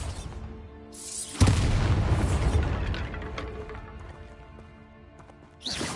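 A Bombarda blasting spell goes off in a Hogwarts video game, a single loud booming explosion that hits suddenly and rumbles away over several seconds, followed by a fresh burst of noise near the end.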